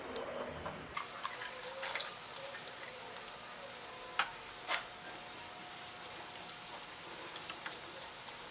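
Water trickles and splashes steadily into a cooking pan, half a glass poured while making ginger chicken, with a few louder drips and clinks over a quiet background.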